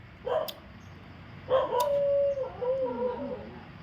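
A dog gives a short yelp, then a longer howling, whimpering bark that wavers and trails off, close by in a quiet room.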